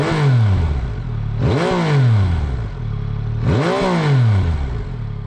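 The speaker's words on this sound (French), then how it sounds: "on se fait le petit plaisir de la redémarrer, d'écouter le petit son de cet Akrapovic qui a été monté" A Yamaha XSR900 GP fitted with an Akrapovic exhaust revs hard after a restart, three loud rising and falling throttle blips in quick succession over a steady idle, close and alone.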